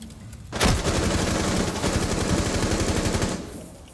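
Sustained automatic gunfire in the video game Rainbow Six Siege, a loud continuous burst lasting about three seconds before cutting off, with no talk over it.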